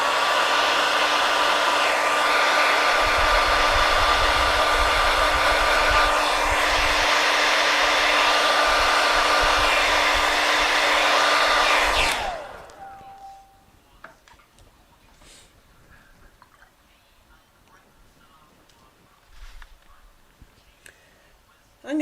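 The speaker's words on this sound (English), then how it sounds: "I'm going to grab my hairdryer, I'm going to dry that off" A hairdryer blows steadily over wet watercolour paint on paper, a loud, close whirring hiss that runs for about twelve seconds before switching off, leaving faint quiet room sounds and a few small clicks.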